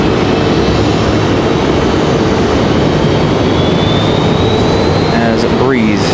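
A United Airlines Boeing 737 MAX jet engine starting up at Raleigh Durham airport, a loud continuous roar with a rising whine, under a broad wash of airport noise.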